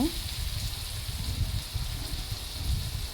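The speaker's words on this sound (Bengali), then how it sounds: "এখন আমি মশলাগুলো ভালোভাবে তেলে ভেজে নেব" Ground spices such as cumin and coriander fry in hot oil for a goose meat curry, a steady soft crackle and hiss close by with low rumbling stirring underneath, no talk.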